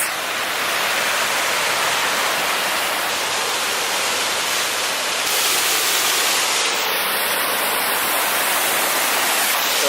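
Flood water rushes loudly and continuously through a channel in San Diego, a dense, steady roar of churning water close by with no pauses.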